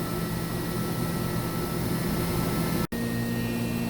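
A 2013 Mazak HCN 4000-III horizontal machining center spindle runs at 10,000 RPM with no load, giving a steady close whine and hum with a single brief cut-out near the end.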